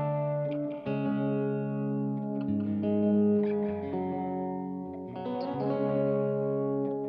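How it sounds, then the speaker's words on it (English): Sustained electric guitar chords ring through the room reverb setting of a Source Audio Collider pedal, each strum swelling and blooming into a smooth ambient tail, with no voice present. "go straight into the room reverb"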